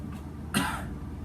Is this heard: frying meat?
no